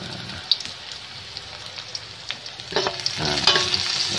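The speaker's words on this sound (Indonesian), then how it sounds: "ini yang ditumis dulu itu ada bawang putih sama bawang merah dulu, cabenya belakangan ya" Garlic and shallots stir-fry in a pan for a sweet-leaf dish, a close crackling sizzle with scattered pops and a few louder scraping stirs near the end, and no talking.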